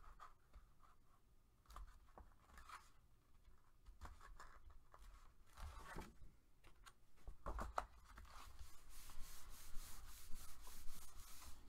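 Paper is burnished down onto card with firm back-and-forth rubbing, a soft, close, papery scraping that grows steadier and slightly louder toward the end.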